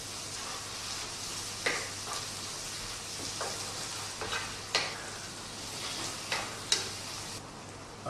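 A curry sauce for tikka masala, with paprika just stirred in, sizzles steadily in a pan while a spoon scrapes and stirs in periodic strokes, close and without talk.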